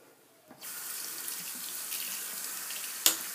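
A bathroom tap turns on and runs steadily into a sink during a shave, a close continuous splashing stream that starts abruptly and carries on, with a small clink near the end.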